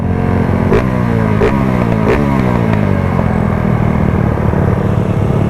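A motorcycle with a sticking throttle runs loud and close, its engine holding a steady, high-revving drone with a few sharp clacks early on and no voices.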